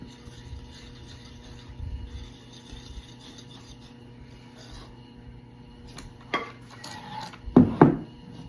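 500 grams of flour being mixed into sourdough in a bowl: quiet, intermittent scraping of a utensil against the bowl, ending with two sharper clinks and scrapes close by.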